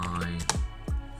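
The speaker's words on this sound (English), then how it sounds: "you type in the name of your file" A couple of crisp keystrokes tap on a computer keyboard as a file name is entered, two distinct clicks spaced under half a second apart, close and moderately loud over a faint background hum.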